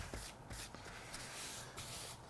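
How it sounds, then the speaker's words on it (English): Aerosol wood stain is sprayed onto a board in several short, quiet hissing bursts separated by brief gaps. "If you miss a spot, you can spray it again,"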